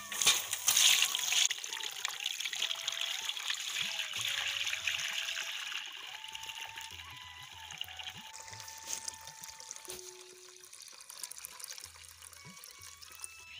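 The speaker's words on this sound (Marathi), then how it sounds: "आता पाणी आपण ओतून घेऊ." Soaked wheat on its second day of soaking has its water poured off through a sieve, a steady trickling pour strongest at the start, then fading into faint dribbles with light handling sounds, no talk.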